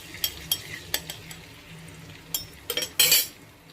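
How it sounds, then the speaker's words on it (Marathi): Cumin seeds and garlic crackling in hot oil during a tempering for a bitter gourd dish, sparse sharp pops and spits over a faint sizzle, building to a denser burst near the end. "हे पहा, आता जिरे आपलं तडतडतं आहे."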